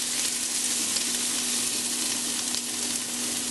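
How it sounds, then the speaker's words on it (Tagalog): Onion and ginger sautéing in a pan for pork dinuguan, a steady close-up sizzle and crackle of frying with a constant low hum underneath and no speech. "Igigisa lang natin to hanggang sa lumambot yung sibuyas."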